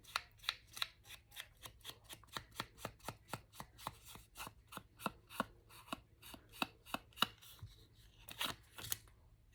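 Excess paper scraps being cut off, a quick run of crisp, evenly spaced snips close up, about three per second, with no talk.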